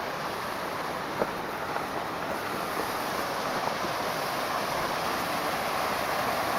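A waterfall roars in a forest with birch trees, a steady, loud broadband rush that stays constant throughout with no voices.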